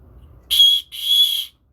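Two sharp, shrill blasts from a small survival whistle built into a fire starter, the first short and the second longer, with a brief gap between them and quiet on either side.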